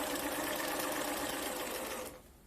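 A sewing machine stitches a row in a fast, steady mechanical whir at close range, running evenly and then stopping abruptly near the end.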